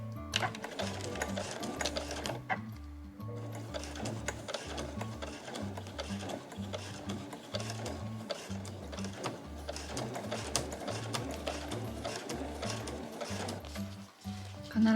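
A sewing machine stitches the handles of a granny bag in steady rhythmic bursts of needle clatter, pausing briefly once, close and clear with no talking.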